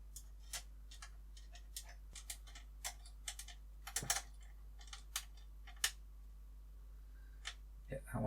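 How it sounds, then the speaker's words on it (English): Small metallic clicks and ticks come from an Allen key turning a screw into a Terminator model part, quiet, irregular taps spaced apart over a low steady hum. "So I'm going to turn my Allen key that way around, start screwing this in."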